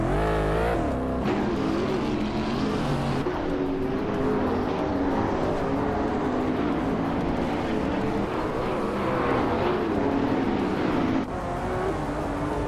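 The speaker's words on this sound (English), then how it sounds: "Amin-san's Porsche 918 Spider is a hybrid supercar, known for its incredible acceleration and handling." A Porsche 918 Spider hybrid supercar racing through Rio, a loud, continuous engine roar rising and falling in pitch as it accelerates and shifts, with other cars' engines blended in and no voices.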